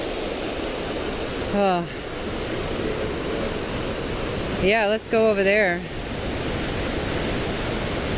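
A powerful waterfall at Grand Portage State Park roars as a steady, loud wash of rushing water throughout, with brief voices talking over it twice.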